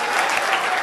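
Audience applause for the winning bidders at a charity fundraising auction gala, a dense, steady wash of clapping from a large room that holds at an even level throughout the brief moment.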